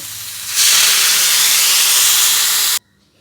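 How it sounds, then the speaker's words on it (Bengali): Water poured into a hot pan of spiced drumstick vegetables, producing a sudden loud steamy hiss that holds steady for about two seconds and cuts off sharply, close and with no voices. "মশলাগুলো সবজির সঙ্গে কষানো হয়ে গেছে এবার জল দেব"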